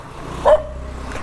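A dog barks once on a street in Nagarbhavi, Bengaluru, a short, fairly close yelp rising above steady background noise.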